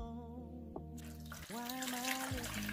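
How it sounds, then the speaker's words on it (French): Water pours from a tap or jug onto baker's yeast in a bowl as the first step of a Cameroonian flour beignet dough, a steady close splashing stream that starts about halfway through after a quiet kitchen lead-in. "Là, j'ai la levure. Je vais commencer par y mettre de l'eau."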